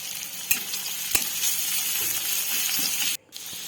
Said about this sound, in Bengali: আর ওই তেলে আমি দিয়ে দেবো একটি বড় সাইজের পেঁয়াজ কেটে